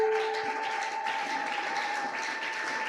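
Applause and acclamations from a church congregation during a worship service, a dense steady wash of clapping with a sustained held tone running underneath throughout.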